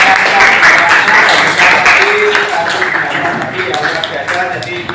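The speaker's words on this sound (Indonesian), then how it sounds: "Ya, aplaus untuk kedua teman tadi yang sudah" Classmates clap for two colleagues in a classroom, a dense, steady patter of hands lasting the whole stretch, with voices chattering beneath and over it.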